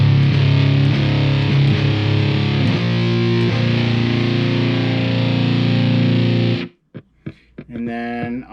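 A Yamaha EZ-EG MIDI guitar plays a palm-muted, heavily distorted riff through a Tone X amp, loud and dense for several seconds before cutting off into a few sparse plucked notes.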